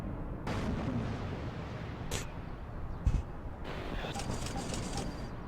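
Distant gunfire and heavy booms from a Warno battle as a tank is knocked out and its turret blown off, a steady rumbling barrage with a sharp blast near the middle and another sudden hit at the very end.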